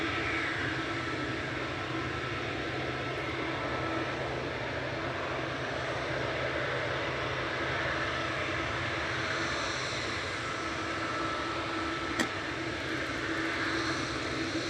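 Air France and Ryanair airliners at Manchester Airport, a steady moderate engine rumble that lingers without much change, with one brief click partway through and no voices.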